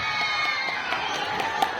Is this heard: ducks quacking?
no